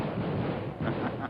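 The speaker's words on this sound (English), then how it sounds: "There's shooting down on the trail." Gunfire down on a trail in a Western setting, heard as a dense, rumbling burst of shots that stays loud across the whole moment, with a couple of sharper swells near the end.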